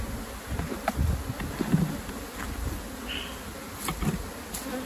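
Bees buzz steadily around a beehive while drones are being removed, a close, moderate hum with occasional louder passes and light wind noise.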